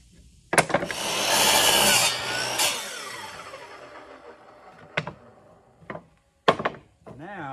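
A pallet board, half an inch thick, is cut with a saw in a workshop: a loud burst of sawing runs for about two seconds and then fades, followed by a few sharp knocks of wood.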